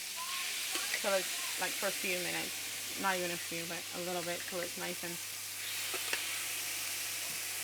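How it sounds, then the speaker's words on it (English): Shrimp sizzle and fry in a hot pan, a steady crackling hiss running underneath a person talking throughout. "So I'm literally going to saute up all my shrimp"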